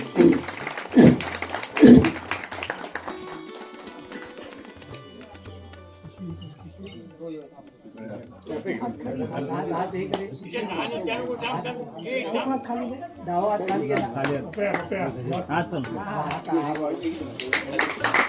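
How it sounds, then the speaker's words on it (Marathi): Audience applause at a village temple event for the Kulswamini Sateri Devi in Chipi, Sindhudurg, with brief bursts of clapping early on giving way to crowd chatter and a steady murmur of voices throughout. "टाळ्या वाजवायच्या सर्वांनी"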